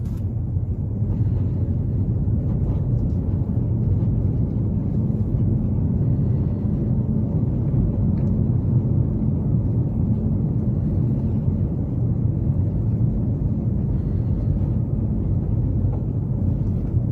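A 2021 Toyota Yaris Cross Hybrid moves off and turns on electric power alone, the engine silent, leaving a steady low road and cabin rumble that stays even and unbroken throughout.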